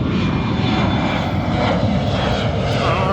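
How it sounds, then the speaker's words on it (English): Propeller or jet airplane passing overhead outdoors, a steady broad engine roar at moderate distance that holds evenly for a few seconds, with no talking over it. "Another airplane"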